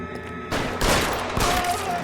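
Bursts of rapid gunfire from the video game L.A. Noire crackle in a dense fusillade over a low game soundscape, following a brief quieter stretch with faint music.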